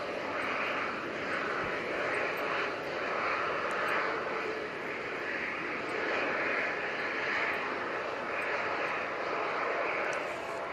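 An Emirates A380 airliner comes in to land, its engines a steady, fairly faint broad roar with slow swells in level, heard from a distance with no nearby voices.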